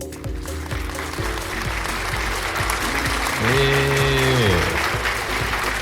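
A canned applause sound effect, a dense continuous wash of clapping, with a voice briefly speaking over it near the end.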